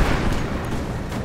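A dense, booming shotgun blast in the game Rise of the Tomb Raider fills the whole clip, loud and sustained like a close gunshot with rumbling tail, no talking.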